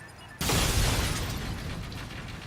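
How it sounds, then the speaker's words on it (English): Bomb exploding in a Search and Destroy round of a first-person shooter video game, a sudden loud blast that bursts in and then rumbles and decays, no talk over it. "the bomb is still going to go off"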